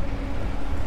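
A Candela C-7 electric foiling boat motor gives off a steady low whir with broadband water and wind rush, brief and continuous, with no idling or engine rumble.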